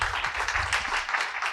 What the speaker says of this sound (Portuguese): O público aplaude enquanto Márcia Cavalcante se dirige ao palco.